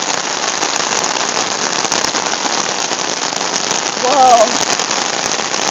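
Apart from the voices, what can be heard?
heavy rain falling during a thunderstorm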